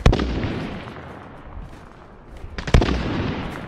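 Airstrike explosions in the Warzone battle royale game: a heavy booming blast at the start rumbles and decays, then a second loud burst lands near the end, both close and full-bodied.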